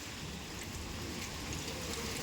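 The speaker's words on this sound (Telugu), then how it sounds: "ఓ చిన్న వాన కాదు బయట, భయంకరం ఉంది." Heavy rain pours outside during a fierce storm, a dense, even roar of falling water that holds steady throughout with no voices.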